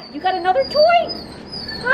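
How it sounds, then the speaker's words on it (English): Mid-size dogs whimper and yip close by outdoors in short, high whines, mixed with a person talking over them. "We have a lot of dogs here right now."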